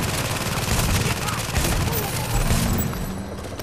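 Dense gunfire from a game of The Division's Dark Zone, with a shotgun among the shots: a steady barrage of bursts at close range that carries through the whole stretch with no clear gaps.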